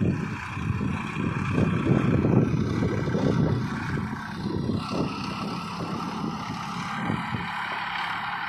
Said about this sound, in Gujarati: આ ટ્રેક્ટર છે મેસી ફર્ગ્યુસન.